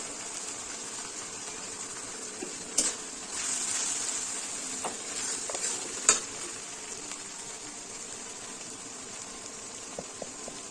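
Chilli powder and turmeric frying in oil in a pan for a Bengali catla fish curry, a soft continuous sizzle with a few stirring clinks and scrapes, no talk.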